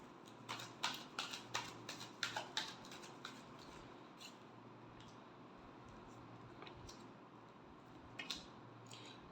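Tarot cards shuffled in a quick run of crisp, faint riffles and taps near the start, followed by low background and a few scattered card clicks.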